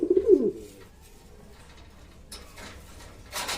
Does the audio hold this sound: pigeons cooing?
yes